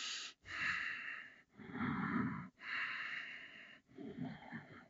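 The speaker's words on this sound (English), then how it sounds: "Strong, focused breathing." Strong, focused breathing during a yoga twist in a Warrior 2 class: four long, forceful breaths, each a rushing exhale close to the microphone, separated by brief pauses, with no speech.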